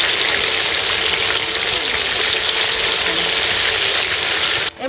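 Potatoes frying in a pan over a village cooking fire, a loud continuous sizzle and crackle held steady for several seconds, cutting off abruptly at the end.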